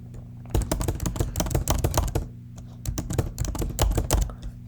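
Quick bursts of clicky keystrokes on a computer keyboard while typing Python code, irregular runs of close taps with brief pauses between, no talking.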